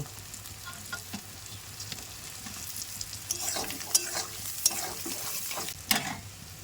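Cut potatoes fry in a pan at a home picnic cookout, a continuous sizzle punctuated by several sharp scraping and clinking strokes of a utensil against the pan, growing busier toward the end.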